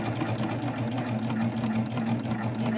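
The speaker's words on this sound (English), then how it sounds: "I'm going to lower the presser foot and sew it a little bit." A sewing machine fitted with a binding attachment runs steadily for a few seconds, giving a continuous close, even whirring hum with no pauses.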